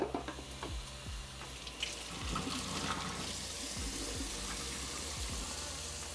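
Running water splashes and gurgles steadily into a film developing tank, rinsing it, with small knocks and clunks of handling underneath.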